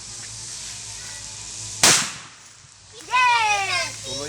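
A single sharp, loud firecracker or boga cannon bang cracks out near the microphone over a steady background hum, and then excited voices and shouting rise a second later.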